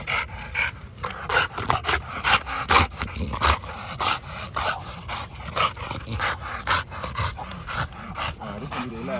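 An American Bully dog pants in quick, rhythmic breaths close by during a workout, while a person talks over it.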